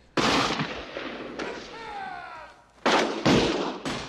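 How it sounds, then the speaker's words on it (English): M16A1 rifles fire in a Jarhead film scene, with several sharp, loud shots in short bursts. A brief wavering tonal cry sounds between the volleys. "they're shooting M16A1s, came out of the Vietnam War"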